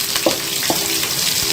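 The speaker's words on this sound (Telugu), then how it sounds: "నెక్స్ట్ గ్రీన్ చిల్లీ బాగా డీప్ రోస్ట్ అయ్యే వరకు చేస్తారు." Green chillies deep roasting in a pan for a prawn curry with egg give a steady, close sizzle with a few brief stirring scrapes across the short span.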